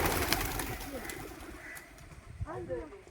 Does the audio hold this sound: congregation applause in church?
no